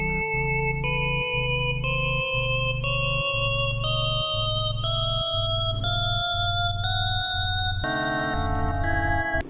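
Telephone ringtone for an incoming call on a call-in show, a loud repeating electronic melody of short tonal beeps stepping in pitch, heard alone and jumping brighter near the end.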